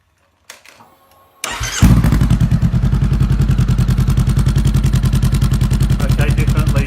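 A 2017 Honda CBR500R motorcycle fitted with a Delkevic 200mm exhaust starts after a few clicks and settles into a loud, close, steady idle with a rapid even pulse.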